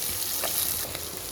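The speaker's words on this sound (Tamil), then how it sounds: "பெரிய வெங்காயம் கட் பண்ணி நம்ம சேர்த்துக்கலாம்." Chopped big onions fry in a pan for Palak Corn Rice, giving a steady close hiss of sizzling oil with a faint stir partway through.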